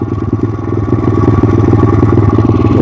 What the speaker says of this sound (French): et après j'éteins la moto